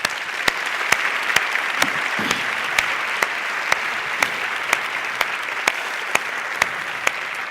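An audience applauds in a full, continuous roar, with sharp, evenly spaced ticks cutting through the clapping at a steady beat throughout.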